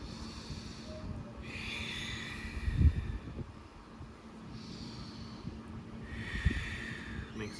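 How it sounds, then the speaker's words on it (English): Slow, deep breaths flow in and out in long airy waves, roughly two full cycles, with occasional soft thumps and low room rumble underneath. "hold, long, slow, deep breaths."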